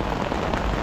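Steady rain falls at a roadside campsite on National Road 320 in Jiashan, Zhejiang, making a continuous broadband patter that stays even and fairly loud through the short moment, with no voices.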